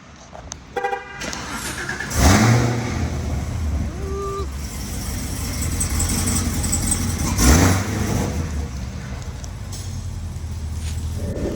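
A modified car with camshaft and injector upgrades runs on a dyno, its engine droning steadily and surging in two loud revving peaks. A horn toots near the start.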